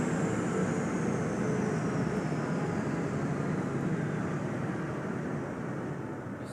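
A Voyager tilting train in the Roblox video game runs steadily at speed, producing a continuous broadband rumble and rush that stays loud throughout and eases off slightly near the end.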